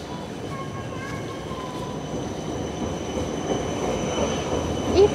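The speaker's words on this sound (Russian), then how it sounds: "И трамвай поехал." A tram in Freiburg im Breisgau, Germany, rumbles as it pulls away, a steady low rolling noise with faint metallic wheel squeals and a soft hum, heard from on board.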